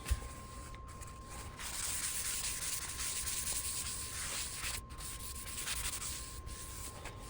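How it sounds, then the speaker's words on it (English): Steady, gritty sanding of a black walnut lazy Susan at 120 grit, a continuous rasping rub that goes on without pause and stays fairly close. "I sanded our Lazy Susan down to 120 grit"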